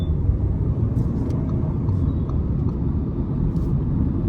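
An Audi Q3 Sportback S-Line accelerating hard in sport mode through traffic gives off a steady, deep engine and road rumble from inside the cabin, loud and continuous, with faint higher tones over it.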